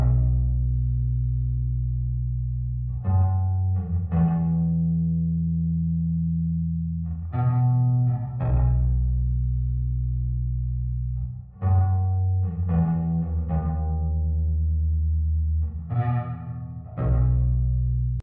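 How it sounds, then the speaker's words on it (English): Deep, sustained bass guitar notes ring out slowly with heavy, long, washing reverb tails, each note blooming and lingering into the next. "a spaced out version of the bass with just like a much heavier reverb on there"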